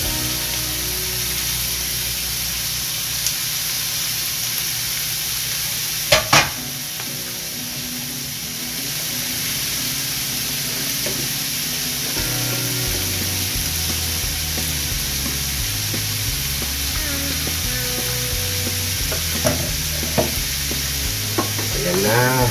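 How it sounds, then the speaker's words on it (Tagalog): Bitter gourd (ampalaya) fries in a hot pan with a constant close sizzle, broken by scraping stirs and a couple of sharp knocks. "Lagay na natin itong ampalaya"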